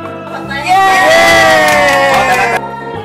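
A loud crowd cheers and whoops after birthday candles are blown out, the noise swelling suddenly and holding steady for a couple of seconds under a sustained musical tone before dropping back.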